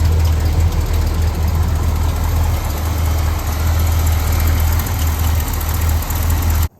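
A big block Chevy V8 in a Squarebody Chevy truck idles after an oil pan gasket replacement, a loud, close, steady low rumble that holds evenly until cutting off abruptly at the end.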